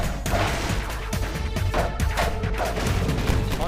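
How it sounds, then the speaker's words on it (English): Bullet fly-by whooshes sound amid dense, continuous gunfire in Half-Life 2, with a separate approach sound and departure sound faking a Doppler effect. Rapid sharp cracks keep the whole stretch loud and busy. "We then play two different sounds at that point to fake a Doppler effect, one for the bullet's approach and one for its departure."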